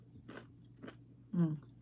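Close, quiet bites and chewing of crunchy food, with a few soft crunches and a louder bite toward the end over a low background hum.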